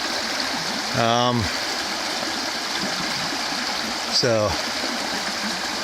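Steady broadband rushing of a flowing creek at Point Reyes National Seashore throughout, with a couple of short spoken words rising over it.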